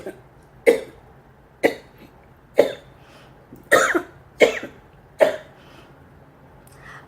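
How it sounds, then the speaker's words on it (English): Seven sharp, separate coughs from a person having an asthma flare-up, spaced roughly a second apart, close and loud against a quiet background, with some throat-clearing quality. "I started to cough."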